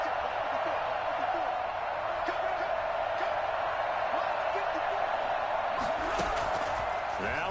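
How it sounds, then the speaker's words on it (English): A stadium crowd in a football video game keeps up a continuous roaring wash of noise while commentators talk over it, building slightly toward the end. "Listen to this crowd now."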